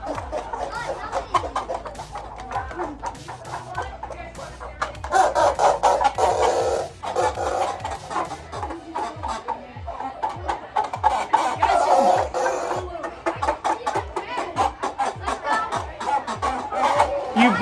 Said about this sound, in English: You bunch of turkeys.